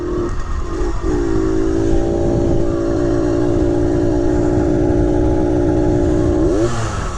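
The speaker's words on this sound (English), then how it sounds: "It zooms right along. Little 50cc motor." A 1970 Harley Davidson M65S with a little 50cc motor riding along, its small engine buzzing loud and steady up close, the pitch holding even before rising briefly near the end.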